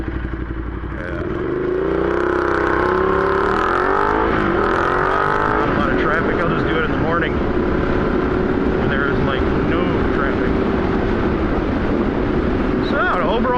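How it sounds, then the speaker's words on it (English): Road traffic passing near a Ducati Diavel motorcycle, engines building from a low rumble into a loud, sustained roar with shifting pitch as vehicles go by, accompanied by clattering and wind buffeting. "I'm gonna wait for traffic and then I'll..."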